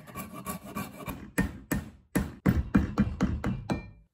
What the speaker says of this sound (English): So I'm just going to keep placing it on, finding out where the sticking points are, and rasping those off.